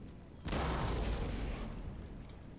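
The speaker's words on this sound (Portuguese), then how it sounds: "Eu preciso esperar meu canhão destruir esse cara aqui." A single heavy cannon boom from the strategy game Empire: Total War bursts suddenly, then rumbles and slowly fades out.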